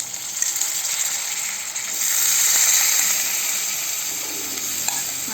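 Boiled potatoes and carrots tipped into a pan of sautéed spices, a loud steady sizzle and frying hiss that swells partway through with faint stirring scrapes, no voices.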